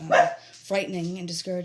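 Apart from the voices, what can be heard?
service dogs barking in a back room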